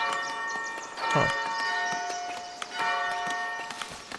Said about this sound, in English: Bell Tower Sound.